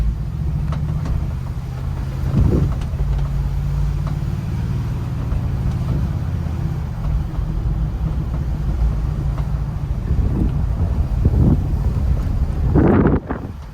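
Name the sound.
Mercedes-Benz G-Class AMG driving downhill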